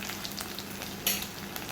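Steady crackling sizzle of urad dal, chana dal and dried red chillies frying in hot oil, with a brief louder burst of spitting midway, no voices.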